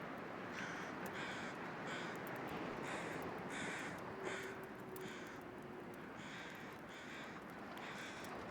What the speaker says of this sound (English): I hear another set of crows.